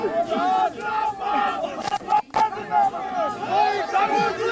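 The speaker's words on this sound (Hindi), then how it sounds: "उनके समर्थक जो है वो नारे लगा रहे हैं।" Large crowd of supporters at a political gathering for Himachal Pradesh's chief minister, loud rhythmic chanting and shouting slogans continuously, with a brief drop near the middle before the cheering resumes.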